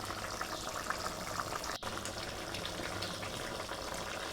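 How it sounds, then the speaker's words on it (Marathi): Dhaba-style egg masala curry gravy thinned with water comes to a boil in the pan, giving a faint, steady bubbling and simmering hiss with one brief click and no talk. "तर इथे मस्तपैकी 1 उकळी आली आहे"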